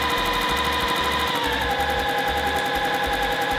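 A sewing machine stitching fabric with a small stitch along a printed line for paper foundation piecing: a steady close mechanical whir driven by a fast, even run of low thumping needle strokes, with no voices.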